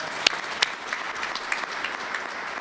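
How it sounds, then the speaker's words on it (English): Applause from an audience at a community college graduation press event, a broad steady wash of clapping with a few sharper claps standing out, moderately distant and continuous throughout. "I'll take a round of applause for that."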